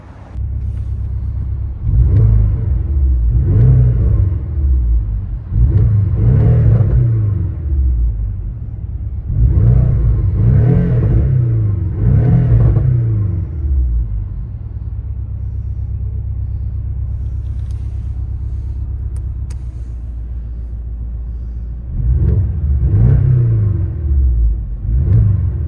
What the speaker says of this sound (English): Porsche 718 2017 with Car Graphics exhaust.